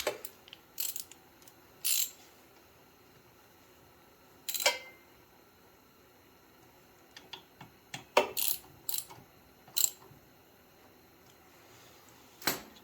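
A wrench ratchets as a bolt is tightened on a chipper shredder left outdoors for two years, with short clicking bursts spaced irregularly between quiet pauses, close and fairly crisp.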